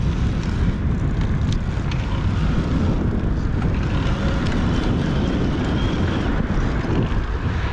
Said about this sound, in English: I know there are cars driving by, and really between them and just a little breeze